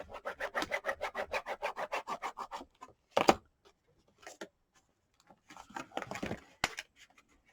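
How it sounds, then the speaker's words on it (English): A paper fold on a gift box is burnished flat with a quick run of rapid, rhythmic rubbing strokes close up, then a few scattered scrapes and taps, all faint. "Go ahead and burnish that so it stays in there."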